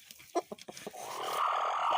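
A broody hen sitting on many eggs gives several short, separate clucks, then settles into a steady, louder murmuring cackle that carries on to the end.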